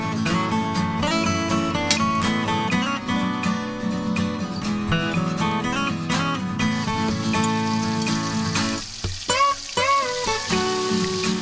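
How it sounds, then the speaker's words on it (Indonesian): Ground spice paste of ginger, shallots and garlic sautéing with red chili, a close, steady sizzle and crackle under a busy layer of tonal background sound, with a brief dip near the end. "bumbu yang telah ditumbuk halus ditumis dengan sedikit tambahan rica atau cabai merah"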